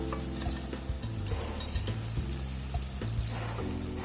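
Gongura sorrel leaves and chicken pieces fry in oil with a constant, moderately loud sizzle, a low rumbling hum beneath and faint stirring scrapes scattered across.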